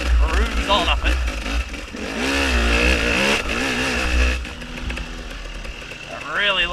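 A hard enduro motorcycle engine labours up a steep hill, its revs rising and falling in uneven surges with heavy clutch work, loud and close, with a rider talking over it.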